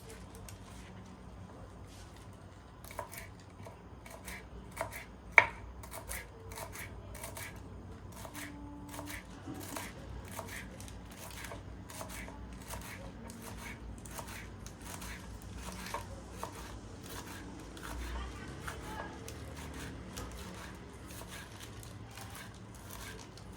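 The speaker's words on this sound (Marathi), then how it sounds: "आता आपण हे पालक बारीक बारीक चिरून घेऊया" Spinach being finely chopped with a knife on a board at home, a steady run of quick, light taps that keeps going throughout, close and fairly quiet with no talking.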